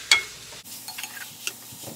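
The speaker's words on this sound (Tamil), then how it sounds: "இந்த தக்காளி நல்லா வணங்கணும்" Chopped onions and tomatoes frying in a pan for mutton curry, a soft sizzle with a few scattered clicks and small stirring knocks close by, fairly quiet and without talk.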